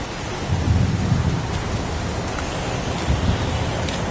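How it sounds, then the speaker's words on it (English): Heavy pouring rain falls in a video game scene, a constant loud hiss broken by low rumbles of thunder, with no talking. "It's pouring rain."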